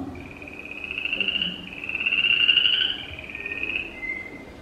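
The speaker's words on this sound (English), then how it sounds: "So this is the call of Ferriarum where it occurs alone." A Ferriarum chorus frog from an allopatric population gives a series of rising, rasping trilled calls, fairly close and distinct over faint background noise, with no voices.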